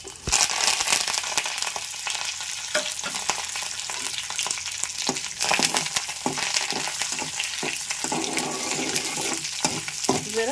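Curry leaves, cumin seeds and dried red chillies fry in hot oil with a loud, close, continuous sizzle, broken by crackles and the scrape and clink of a stirring spoon.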